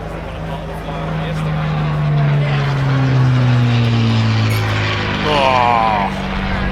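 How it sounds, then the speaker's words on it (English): A Supermarine Spitfire propeller aircraft passing overhead at an air show, a loud droning engine rising and falling in pitch over a windy outdoor background. "There's a Spitfire over there."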